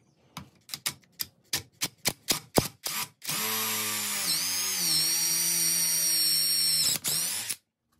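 A power drill bores a quarter-inch dowel hole through a cracked axe handle, opening with a burst of short trigger blips before one long, steady whine of about four seconds that dips slightly midway and then stops, close and loud.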